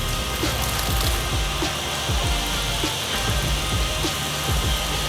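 Water is sprayed over a car to simulate rain, making a loud, continuous hiss and patter of drops on the body panels with no talking.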